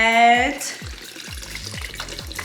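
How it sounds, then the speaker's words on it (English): Coconut water pours into a mix of honey and cayenne pepper for ginger shots, a steady close liquid splash that follows a brief spoken word. "Now we're gonna go in with the coconut water."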